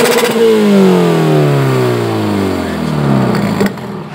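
A Subaru family car with a modified exhaust revs hard close by, the engine note rising and then falling away in a smooth sweep before cutting off abruptly, with no talking over it.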